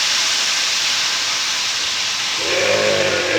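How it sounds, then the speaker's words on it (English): Three-quarters of a cup of white wine hits a hot pan over medium heat while making chicken piccata, giving a loud, steady, close steam sizzle and hiss that continues throughout, with a low bubbling rise near the end. "Yeah, that's a good sizzle,"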